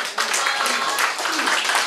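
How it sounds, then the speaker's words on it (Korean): Audience applause at a singing club's 2017 year-end party, a steady dense wash of clapping that holds for about two seconds, fairly loud, with voices mixed in. "다같이 박수 부탁드리겠습니다"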